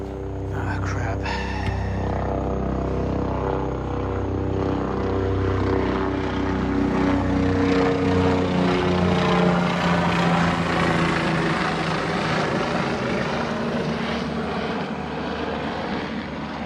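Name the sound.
helicopter flying overhead at night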